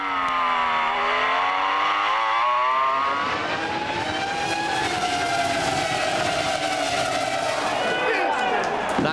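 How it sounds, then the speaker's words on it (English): Formula 1 cars from 2002, Renault and McLaren among them, scream past while accelerating, their rising and falling engine tones overlapping loudly, with a commentator talking over them. "Renault's superior traction control helps them blast past the McLarens"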